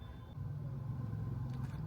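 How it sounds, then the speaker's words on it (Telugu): An auto rickshaw passes on a road in Anantapur, its engine a steady low rumble heard faintly from a distance with no one speaking. "అక్కడ ఆటో పోతుంది చూడండి"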